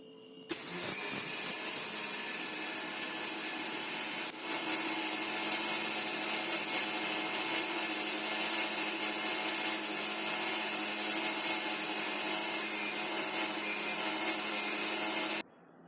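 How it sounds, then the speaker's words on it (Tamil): An electric mixer grinder grinds sun-dried rice into flour, a steady loud whirring roar that keeps going for about fifteen seconds with no talking. "அதுக்கு ஒரு மிக்ஸி சேரில் நம்ம நல்லா காய வச்சுருக்கோம்ல அந்த அரிசியை சேர்த்துக்கலாம்."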